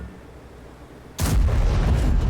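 A tank destroyer's gun firing in a tank video game, a single heavy, booming shot that starts abruptly and rumbles on loudly through to the end.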